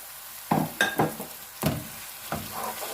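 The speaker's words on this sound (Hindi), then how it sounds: "अब हम कीमे को अच्छे से मसाले में फ्राई करेंगे।" Minced meat (keema) being stirred and fried in an onion, garlic and ginger masala in a pan, with a low sizzle and several soft scraping stirring strokes, fairly quiet and without talk.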